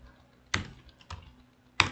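Three separate keystrokes on a computer keyboard, close and crisp, spaced irregularly over a quiet room background.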